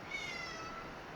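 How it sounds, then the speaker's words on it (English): A house cat meows once, a faint, drawn-out mew heard indoors over a low hiss of room noise, with no talking. "sorry, that's my cat"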